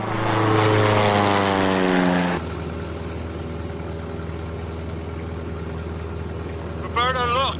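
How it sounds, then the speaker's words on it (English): A propeller airplane drones overhead above snowy Alaskan wilderness, a steady loud engine hum with a rising, shifting pitch at first, then a lower constant drone that fills the whole stretch. "There's a plane."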